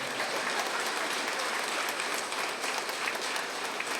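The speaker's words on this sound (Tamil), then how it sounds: "கைத்தட்டதுக்கு ரொம்ப நன்றி." Sustained audience applause at a Tamil student honouring ceremony, a dense, even wash of many hands clapping at moderate level throughout, with no speech over it.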